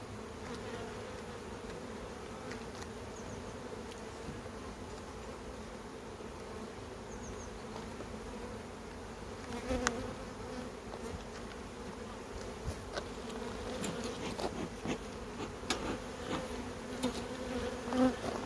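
Honeybees buzzing around a beehive in late August, a steady dense drone of many insects close by, fairly faint with occasional louder passes of individual bees near the microphone.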